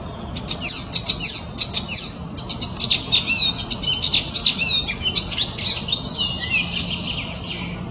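An icterine warbler sings a loud, fast, varied song of rapid chirps, trills and mimicking phrases, close and continuous over faint background noise.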